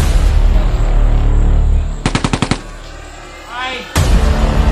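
A rapid string of firecrackers pops close by, about half a dozen sharp cracks in quick succession, breaking out of steady loud background noise and followed by a brief lull.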